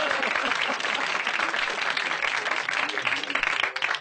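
A studio audience at a French radio comedy show bursts into steady applause, dense clapping that fills the room evenly from start to finish with no voices over it.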